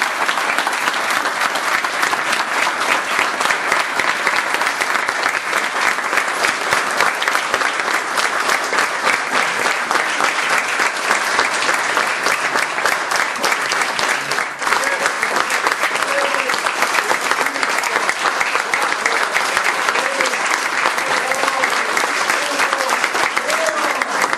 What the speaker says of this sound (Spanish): Un minuto de aplauso para el Señor.